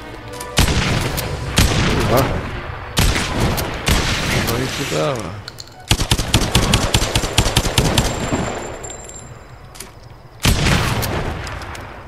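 Rapid bursts of gunfire from the video game Lara Croft and the Temple of Osiris, loud and dense, with repeated sustained volleys and short pauses between them.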